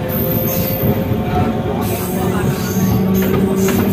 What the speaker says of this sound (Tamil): இந்த சென்னை சென்ட்ரல் டு பிட்ரகுண்டா மெமுல பார்த்தீங்கன்னா ரெஸ்ட் ரூம் ஃபெசிலிட்டிஸும் கொடுத்துருக்காங்க.